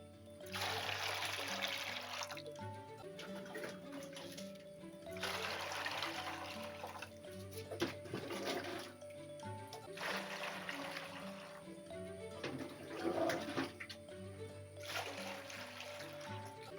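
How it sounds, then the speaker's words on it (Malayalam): Water poured from a vessel into freshly collected rubber latex on a rubber plantation, heard as three splashy bursts of pouring separated by short pauses, fairly close, with a steady faint tonal hum underneath. "നമ്മൾ ഒഴിച്ച കറയിലോട്ട് ഇതിനൊരു പാത്രം വെള്ളമാണ് ഒഴിക്കുന്നത്."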